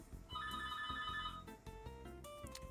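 A phone ringtone plays during a gaming livestream, a melodic electronic tune of repeating tonal notes over a low rhythmic bass, fairly faint.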